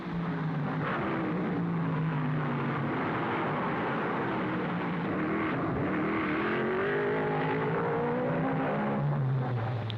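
1955 Formula 1 race cars taking the Monaco gasworks hairpin nose to tail, engines droning loudly and continuously with pitch rising and falling as they brake and accelerate through the bend, no voices.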